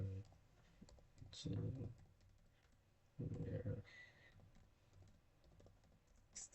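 Keys on a computer keyboard are typed in two short clattering bursts while a person talks quietly between them during a QGIS mapping tutorial.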